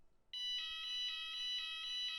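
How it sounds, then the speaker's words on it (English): An intermittent standby fire alarm sounds steadily with a quick repeating pulse, clear and alone against a quiet background. "One is the standby alarm, an intermittent alarm which sounds repeatedly in 2-second intervals."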